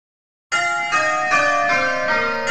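Simulated church bells ring in the Abel bell-ringing program: after half a second of silence, a quick run of bright, overlapping tolls strikes in steady succession, clear and sustained, with no voices.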